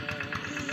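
A tractor engine plowing a rice paddy drones steadily with a rough, pulsing low rumble, close and continuous, with no clear talk over it.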